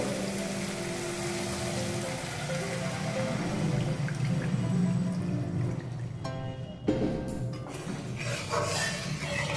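Water poured into simmering masala for a raw-banana kofta curry, a steady splashing, sizzling wash that runs continuously at close range and briefly dips near the end.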